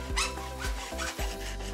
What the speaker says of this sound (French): Vous pouvez limer si nécessaire.